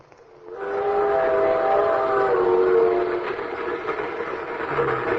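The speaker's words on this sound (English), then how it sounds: "Ski trains." A ski train sound effect from an old-time radio drama: a steam train whistle blows with layered tones and gives a long, loud wail over the rumble of rolling rail cars.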